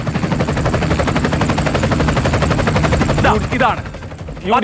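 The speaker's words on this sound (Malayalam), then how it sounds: "ഹെലികോപ്റ്റർ വരട്ടെ ഹെലികോപ്റ്റർ വരട്ടെ" A steady, rapid chopping thrum like helicopter rotor blades fills the clip, loud and continuous, with a brief voice near the end.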